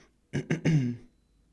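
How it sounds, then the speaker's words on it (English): A short, close throat clearing, two or three quick rough bursts and a low grunt, alone in a quiet room. "Sorry, keep clearing my throat."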